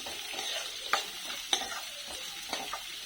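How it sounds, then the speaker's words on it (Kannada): Chopped onion for vegetable upma sautéing in a pan, a steady soft sizzle under a few sharp scraping clicks of a spatula stirring; no voices. "ಈರುಳ್ಳಿ ಒಂದು ಸ್ವಲ್ಪ ಕಂದು ಬಣ್ಣ ಬರೋವರೆಗೂ ಹುರ್ಕೋಬೇಕಾಗುತ್ತೆ ಸ್ನೇಹಿತರೆ"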